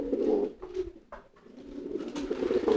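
A male pigeon coos in courtship, a string of close, low throaty coos with brief pauses, alone and fairly quiet.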